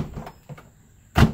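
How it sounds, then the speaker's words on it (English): An Audi driver's door on a widebody build opens and shuts, with a few soft clicks of the latch and then one solid close, near and alone. "the driver's door opens and shuts like it always has"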